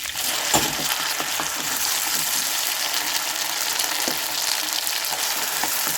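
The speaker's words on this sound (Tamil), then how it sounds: "நம்ம இந்த மசாலா அரைச்சி வச்ச மசாலாவை இதில் போட்டுக்கலாம்" Ground masala paste fries in a pan, giving a loud, steady crackling sizzle with occasional spoon knocks and scrapes close by.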